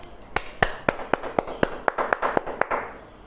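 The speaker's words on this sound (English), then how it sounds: "Children, do you all enjoy this rhyme? Clap for yourself." A classroom of young children claps together in about a dozen sharp, evenly spaced beats, crisp and fairly close with a little room echo and no talking over it.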